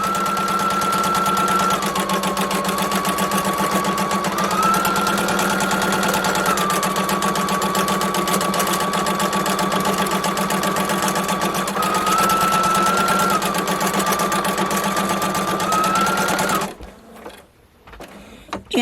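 A sewing machine stitches steadily at close range during free motion quilting, a continuous fast mechanical hum with slight pitch shifts as speed changes, stopping near the end.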